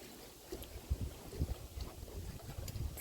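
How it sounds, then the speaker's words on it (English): Gusty wind blows beside a lake near a cottage, a faint low rumble buffeting the microphone in uneven bursts for a few seconds. "It's been so windy"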